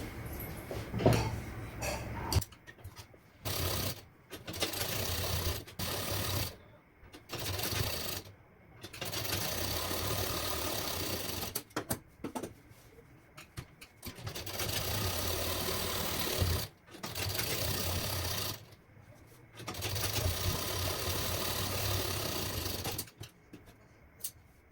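A sewing machine stitches a strip for a princess-cut blouse in loud bursts of rapid whirring, starting and stopping repeatedly with short silent pauses between runs.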